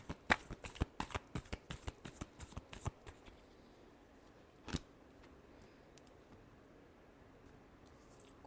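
Tarot cards are shuffled, a quick run of crisp flicking riffles up close for about three seconds, then one more snap and near quiet.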